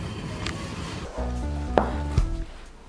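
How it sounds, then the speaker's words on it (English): Knife chopping sorrel leaves on a board, a few dull, close cuts with a sharper knock or two, moderately loud in a quiet kitchen, no talking. "I cut, wash, and prepare sorrel"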